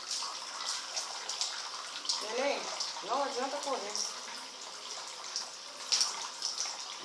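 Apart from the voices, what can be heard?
water in a bathtub during a child's bath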